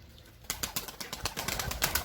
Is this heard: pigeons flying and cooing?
yes